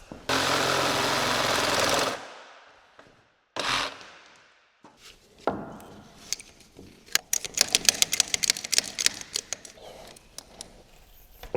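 A power tool cuts through a seized excavator pin bushing locked from the inside. A long loud whining burst comes first, then a shorter one, then a rapid run of sharp metallic rattling impacts, close and harsh.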